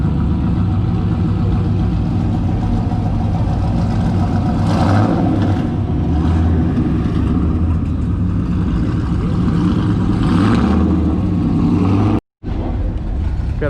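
A truck engine runs loud and steady at an outdoor car meet, rumbling with a few swells of revving throughout before a brief dropout near the end.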